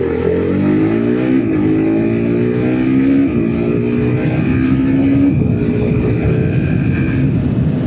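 A TVS Apache RR 310 motorcycle revs loud and close at high speed, its engine note climbing through several clutchless quickshifter upshifts that each drop the pitch briefly before it rises again, with wind rush throughout.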